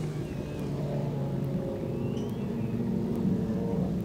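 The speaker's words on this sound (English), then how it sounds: "the Modlites turning it on at Brisbane's International Archerfield Speedway" Modlite race cars roar around Brisbane's Archerfield Speedway during an A-Main race, a steady, dense engine drone holding loud and continuous with no break or voice.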